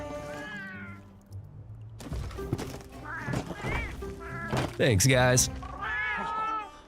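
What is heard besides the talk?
cats meowing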